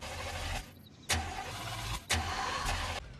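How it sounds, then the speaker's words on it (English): A car engine cranks and starts up, with loud surging bursts separated by short gaps and a steady mechanical drone in between, heard close with no voices. "Okay, you wanna fire it up for me?"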